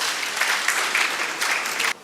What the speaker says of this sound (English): let's welcome Professor Tio with a round of applause